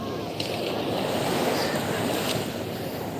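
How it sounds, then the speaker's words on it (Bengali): Big sea waves wash against the shore in a continuous broadband rush, fairly loud and steady, with wind noise on the microphone and no clear voice. "আরেকটা বেশ বড় বিশাল বড় ঢেউ চলে আসবে একটু পরে"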